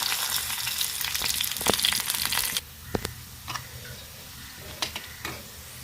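Coconut oil sizzling in a hot pan, a steady crackling hiss that drops away midway, followed by a few sharp clicks and taps of utensils.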